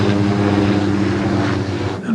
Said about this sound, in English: Oh my God, that helicopter's back.